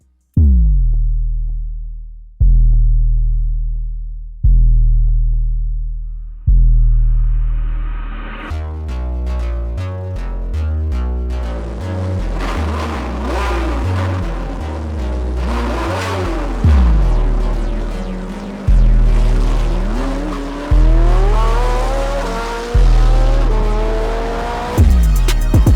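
Intro of a trap type beat built in FL Studio: heavy booming bass hits repeat and decay at a steady pace, then a dense, bright synth section with gliding tones enters before the bass hits return, loud and without vocals.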